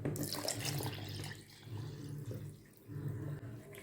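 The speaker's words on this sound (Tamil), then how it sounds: "இப்போ இதில் நல்லா ஐஸ் தண்ணி ஊற்றிக்கலாம்." Ice water pours into a mixer jar holding churned cream for homemade ghee, making a continuous splashing, gurgling flow that pauses briefly twice. The sound is close and moderately quiet.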